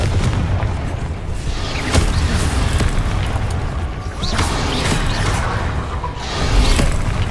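Confringo fire spells in Hogwarts Legacy burst in a series of booming explosions with sharp whooshing impacts over a rumbling game soundscape.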